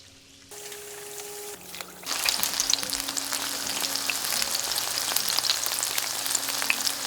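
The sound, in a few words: chicken deep frying in oil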